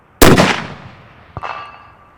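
A single suppressed 300 PRC rifle shot through a CGS Hyperion K suppressor on a Recoil X Gen 2 rifle, a sharp loud crack with a decaying tail, followed by a faint distant impact a second later.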